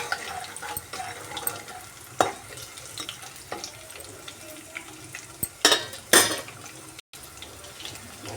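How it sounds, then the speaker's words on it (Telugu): Crushed garlic sizzles steadily in hot oil in a pan over a low flame, with scattered stirring scrapes and a few louder clatters near the end. "దంచి పెట్టిన తెల్లగడ్డలు ఆయిల్ వేడయ్యాక వేసేసుకొని లో ఫ్లేమ్లో బాగా ఫ్రై చేసుకున్నాం"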